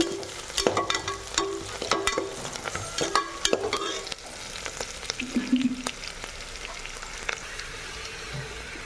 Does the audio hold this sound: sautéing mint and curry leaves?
yes